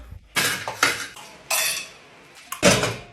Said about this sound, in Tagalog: Hans, maghugas ka muna ng plato doon.